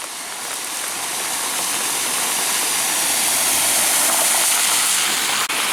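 Heavy rain pouring at a bus stop, a loud, steady hiss of falling water that swells slightly and holds constant throughout, with no voices.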